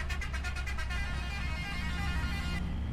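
Air horn of a Mercedes Axor 3240 truck in the farming video game Farming Simulator 25: a rapid series of short tonal blasts, then a longer sustained blare over a steady engine rumble, loud and close, without talk.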